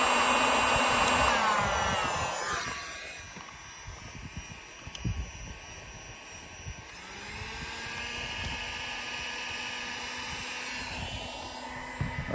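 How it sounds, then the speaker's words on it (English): A heat gun blows close by while it softens paint and sealer around van roof rails, a loud whirring hiss that cuts off after a few seconds, pauses, and then starts again as a fainter, steady whine. "We're gonna use a heat gun to melt and soften that paint and the sealer that's holding them in there"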